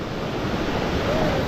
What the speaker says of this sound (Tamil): சின்ன water falls, big water falls.